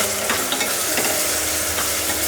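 Onion and tomato fry and sizzle in a pan for a vegetable soya pulao, a steady close crackle broken by a few short scrapes of stirring, with no voices.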